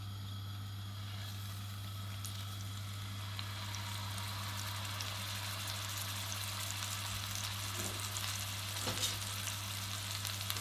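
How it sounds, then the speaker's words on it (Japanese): A low, steady sizzle of pork shoulder searing in olive oil in a heavy cocotte pot continues throughout, accompanied by a constant hum and a few faint clinks. "温めたココット鍋にオリーブオイルを入れて、まず表面を焼いていきます。"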